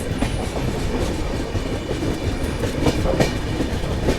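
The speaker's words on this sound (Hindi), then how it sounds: "new Delhi Hyderabad Telangana express" The New Delhi–Hyderabad Telangana Express runs along the track with a steady rolling rumble and rhythmic clickety-clack of the wheels, heard from on board with no voices.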